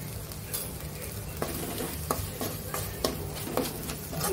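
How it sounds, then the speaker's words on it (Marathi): Spices, kasuri methi and garam masala, being sautéed in tomato puree for a whole masoor curry, a steady sizzle broken by regular scraping stirs of a spoon against the pan, up close. "हे सगळे मसाले व्यवस्थित परतून घ्यायचे आहे"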